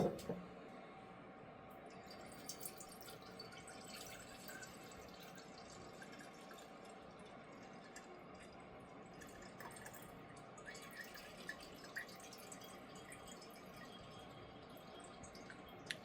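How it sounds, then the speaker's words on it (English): Paint stripper drips from a strainer into a jar while it drains after a three-coat paint removal on a model car, giving faint, scattered drips over quiet background hiss. "we're just going to let that drip dry"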